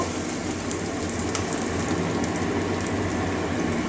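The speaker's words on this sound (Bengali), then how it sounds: "এবার পেঁয়াজটা লাল লাল লাল বাদামি কালার পর্যন্ত ভেজে নেব" Onion frying in a pan with a few green chillies, a dense, even sizzle and crackle that holds steady and fairly loud throughout, with no voices.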